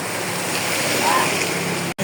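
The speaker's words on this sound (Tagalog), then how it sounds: "Maulan" Steady broadband rain hiss pours continuously outside a small mini-grocery, loud and even throughout, with a brief dropout near the end.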